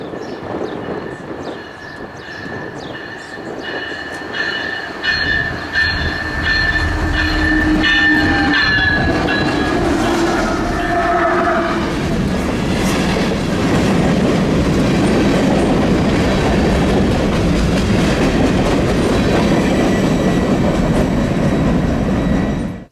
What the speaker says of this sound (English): this random manifest had to come by first, and I'm very glad it did because in the lead was a very fresh and very awesome looking SD75 IACC rebuild.